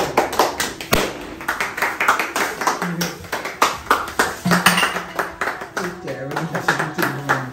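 A group of people clap their hands in uneven, overlapping bursts of sharp slaps, with voices talking over and between the claps.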